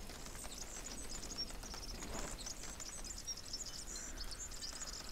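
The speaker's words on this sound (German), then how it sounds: "Und Vögelchen höre ich jetzt hier." Small birds chirp in high, scattered bursts in a Tomb Raider level editor game's suburbs level, faint against a steady hissing ambience.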